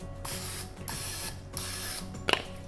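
Cooking spray hissing into a muffin pan in several short close bursts, separated by brief pauses, with a small metallic clink near the end.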